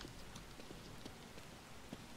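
Steady rain hisses through a dark night scene in the survival horror game The Evil Within, a dense, even wash with faint scattered taps and no voice over it.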